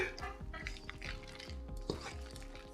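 Cheese sauce being stirred into macaroni noodles for Southern baked mac and cheese, making close, wet, squelching mixing sounds with light scraping against the pot in an irregular rhythm, with no talking.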